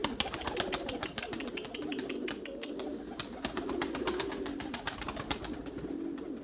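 Erzurum white pigeons coo continuously inside a loft, their low rolling calls overlapping close by, with scattered sharp clicks and taps from the birds moving about.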